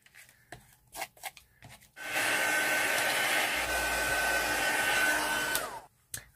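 A hair dryer blows steadily for a few seconds to dry thick texture paste on a canvas, loud and close, after a few light taps and handling noises.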